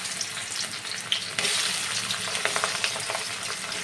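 Chopped onions sizzle in hot oil for a Bengali potolputi dish, a constant frying hiss broken by scraping stirs and small crackles, growing louder and busier after a sudden burst partway through, with no talking.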